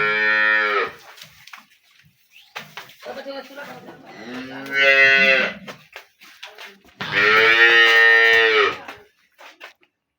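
A Holstein Friesian dairy cow, four-toothed and in her second calving, moos at a cattle sale: long, loud, drawn-out calls come three times with quieter lowing between, close by and without talk.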